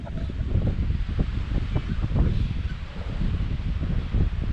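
Gusty wind blowing across an island, a steady buffeting rush against the microphone with rustling, mid-level and continuous for a few seconds, with no one talking.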